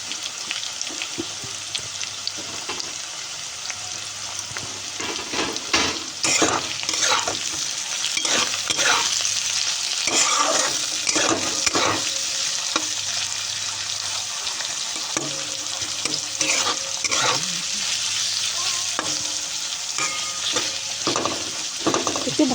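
Chopped green chillies, potatoes and onion sizzle steadily in hot oil while a spatula scrapes and knocks the pan in frequent, irregular strokes, loud and close throughout.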